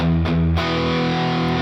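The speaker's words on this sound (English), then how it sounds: "Gives this wide and creamy sound plus a medium distortion and a little bit of delay" A slow-rock electric guitar chord is played through a detuner chorus at about 20% mix, with medium distortion and a little delay, giving a wide, creamy sound. The chord rings thick and sustained, with two quick re-strikes early on.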